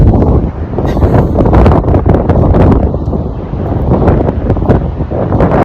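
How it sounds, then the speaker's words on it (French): Strong seaside wind buffets the microphone continuously, a loud low roar with gusty surges throughout and no other clear sounds. "il y a toujours d'ailleurs énormément de vent"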